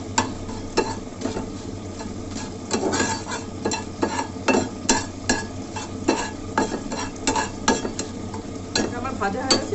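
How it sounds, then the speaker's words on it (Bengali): Cumin seeds and dried red chilies dry-roasting in a frying pan, with continuous clattering and scraping of a spatula against the metal in quick irregular strokes over a low hum, no voices. "একটা ফ্রাইং প্যানে আমি কিছুটা জিরে আর শুকনো লঙ্কা ভেজে গুঁড়ো করে"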